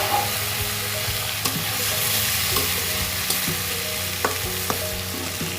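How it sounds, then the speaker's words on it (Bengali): Fish frying in a wok with onions and salt, a steady close sizzle broken by a few sharp clicks of stirring, without any talking. "এবার কড়াইতে মাছ দিয়ে দিব।"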